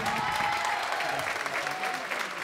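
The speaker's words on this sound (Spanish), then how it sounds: "Que suene más fuerte ese aplauso." A live show audience gives a brief burst of loud, continuous applause, dense crowd clapping that holds steady throughout with a faint murmur of voices underneath.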